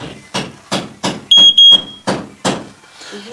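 A household smoke alarm being tested after a fresh battery is fitted lets out two loud, shrill high beeps amid a series of regular thudding knocks, close by.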